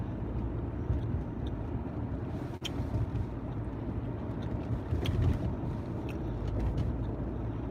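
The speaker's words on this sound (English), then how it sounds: "I'm driving through the city." Interior of a car driving through a city, with a continuous low rumble of engine and road noise and steady wind, plus a few faint clicks and knocks and no talking.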